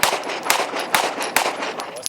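A Smith & Wesson M&P all-metal pistol with a factory compensator fires about five sharp, loud shots in quick succession, each a close crack with a short decay.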